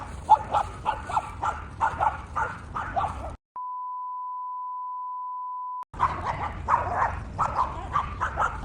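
Dogs bark repeatedly in a park in Moscow, the barks close and choppy. A long, steady electronic beep cuts across the middle before the barking resumes.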